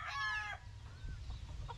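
Chickens and a rooster make a short, loud crowing cry up close, followed by softer clucks and faint calls against a low background rumble.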